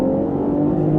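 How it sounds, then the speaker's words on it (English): BMW X7 accelerating hard up a hill, a brief, loud, steady engine drone with a rising tonal whine, heard from inside the car. "I can give it a little gas, see what this car is made of"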